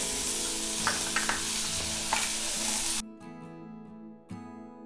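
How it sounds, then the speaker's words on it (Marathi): Green peas and green chili with turmeric sizzling in hot oil in a pan, a steady frying hiss with spoon stirring clinks that cuts off sharply partway, leaving faint crackle and one more scrape. "आपण मिरची थोडीशी परतून घ्यायची तेलामध्ये, थोडीशी हळद घालायची, याच्यातच हिरवे मटार घालायचे"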